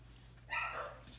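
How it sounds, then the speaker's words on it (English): One short, faint bark from a dog somewhere in the house, heard alone against a low steady hum. "Sorry for the dogs barking."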